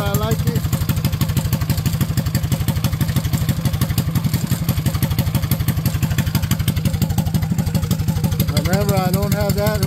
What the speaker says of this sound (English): first pull. Nice clean idle. 1500, right where I like it.